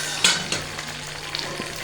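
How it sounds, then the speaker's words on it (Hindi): Okra frying in a pan, a steady soft sizzle with a sharper stir or scrape near the start and a few faint clicks later, close and alone with no talk. "और हमारी भिंडी जो है ना फ्राई होना शुरू हो गई है।"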